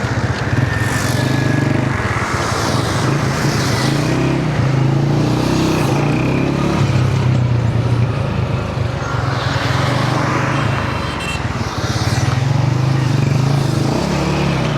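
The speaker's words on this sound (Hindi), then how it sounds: "एक मिनट में बाइक मोड़ लेता हूँ जी।" A motorcycle engine idles and revs steadily nearby while the bike is turned around, a continuous loud rumble with slight rises in pitch.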